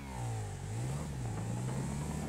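A 2018 Honda CBR500R motorcycle in GTA 5, fitted with turbo, revs its engine in a continuous close drone that dips and climbs in pitch, with no talk over it.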